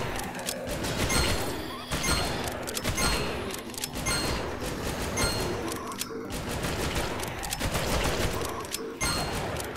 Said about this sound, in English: I'm only using a pistol, I should probably be using better weaponry